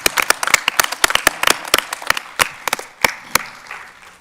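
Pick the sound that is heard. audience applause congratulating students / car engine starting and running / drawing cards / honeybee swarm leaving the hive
audience applause congratulating students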